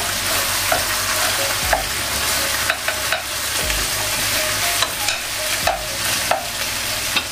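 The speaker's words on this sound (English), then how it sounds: "Let's saute our beef shanks for 2 to 3 minutes before we add water." Beef shanks sautéing in a pan for kare kare, a continuous loud sizzle with periodic scraping stirs and clacks of the utensil against the pan.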